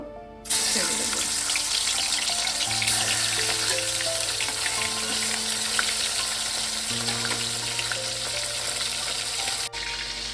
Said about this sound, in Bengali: যতক্ষণ আমার মাছটা ভাজা হচ্ছে